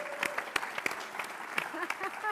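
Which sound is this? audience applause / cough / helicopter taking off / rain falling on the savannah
audience applause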